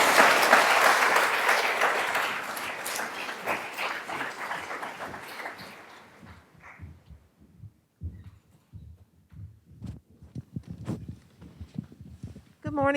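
An audience at a 2021 community day keynote breaks into loud, dense applause that gradually thins out into scattered claps and footsteps.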